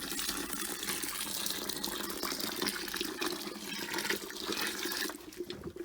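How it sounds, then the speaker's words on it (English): Water pouring steadily into a vessel of malted grain for brewing an IPA, a continuous rushing splash that stays loud and even before thinning out near the end, with no voices. "this is the final addition of water"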